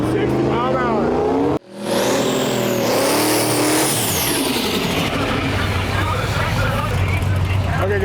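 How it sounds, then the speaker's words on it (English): Duramax diesel-powered Chevelle drag car rolling up to the starting line at a drag racing event, a loud, steady engine drone that swells after a brief dropout and holds strong throughout, with crowd and announcer talk mixed in. "we got Rick Flettis pulling up to the line with his Duramax powered Chevelle"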